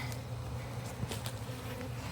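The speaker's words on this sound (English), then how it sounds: "with all of those bees in there, I gotta get her out of there" Honey bees in a hive during a rescue, kept calm with smoke, give a steady low drone throughout, with a few brief sharper buzzes from single bees passing close.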